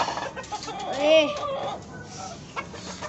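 Chickens cluck and squawk close by in short bursts, with one louder rising call, over a faint background and a brief spoken word.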